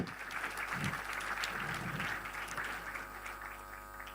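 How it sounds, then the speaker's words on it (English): Sustained applause from an audience at an institution's Foundation Day celebration, a broad wash of many hands clapping at moderate loudness that swells and tapers, ending with a sudden bump. "A loud round of applause for that."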